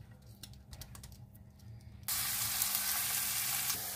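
Garlic, shallot and onion frying in oil in a pot for duck and bamboo soup, starting with a light crackle and tapping before a sudden loud, hissing sizzle takes over for the rest, close and without talk.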